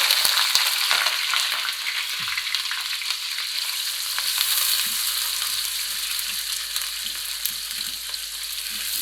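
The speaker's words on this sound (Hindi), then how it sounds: "ऑयल गर्म हो चुका है, अब मैं इसमें प्याज डालूँगी।" Onions drop into hot oil and fry with a loud, steady, close sizzle for a gobhi chicken dish, with occasional light clinks of a spoon against the pan.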